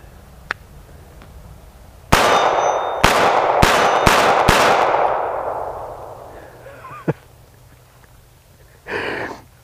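A Kahr P380 pistol fired in a rapid string of five sharp, loud shots in quick succession, each crack ringing out and blending into a long fading echo, followed by a couple of fainter clicks and rustles.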